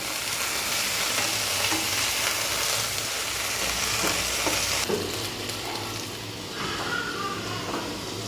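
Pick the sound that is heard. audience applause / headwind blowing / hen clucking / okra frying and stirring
okra frying and stirring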